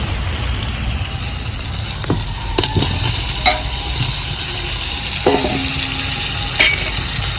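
Fried potatoes get stirred into katla fish masala in a pan, giving a steady close sizzle broken by several sharp spoon clinks and scraping knocks.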